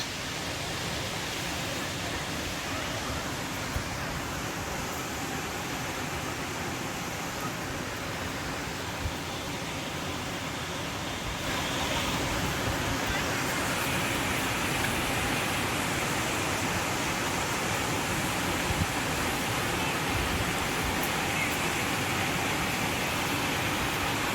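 A steady, roaring rush of a forest waterfall in Odisha, Kushtia Falls, fills the whole stretch without a break, growing slightly louder about halfway through.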